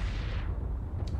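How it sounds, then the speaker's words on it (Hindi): A deep explosion in the video game ARK: Survival Evolved, a loud, heavy rumbling boom that fades over about a second, followed by a faint brief click. "गाइस यहाँ पे आप लोग को धमाका सुनाई दे रहा है?"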